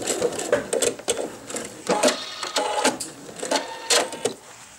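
A sewing machine backstitching to lock the end of a seam on a men's wallet, running in several short bursts of rapid stitching, forward and back, with brief pauses between, close and moderately loud.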